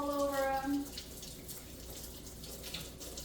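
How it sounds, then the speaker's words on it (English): Hands being rinsed under a running kitchen tap, a steady close splashing stream with a brief tonal whine at the start, continuing evenly throughout. "I'm gonna go ahead and rinse my hands now because I got cheese,"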